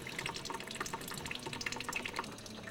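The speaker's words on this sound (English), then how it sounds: "it's just simply taking the lower radiator hose off and letting it drain out" Coolant drains from the lower radiator hose of a Dodge Ram, a soft trickling and splashing of liquid with scattered drips, quiet and continuous throughout.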